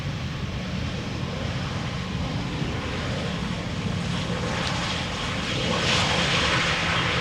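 A Croatia Airlines airliner arriving from Zagreb at Amsterdam Schiphol roars past with a broad, sustained engine rush that swells slightly louder toward the end.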